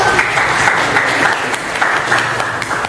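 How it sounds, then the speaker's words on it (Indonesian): Applause from a class of students in an Indonesian school lesson, a dense continuous wash of hand clapping, loud and close, sustained throughout with no talk over it. "Tepuk tangan untuk."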